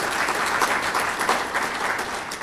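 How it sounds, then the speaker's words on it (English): Steady, dense audience applause fills the room at an agricultural broadband summit, sustained and fairly close throughout with no speech over it. "And you're really applauding for yourself."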